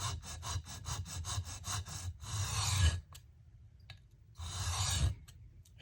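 The blade of a Case Mid Folding Hunter pocket knife rasps against a sharpening stone: a quick run of short, rhythmic strokes, then a few longer, slower scrapes separated by pauses, close and fairly quiet.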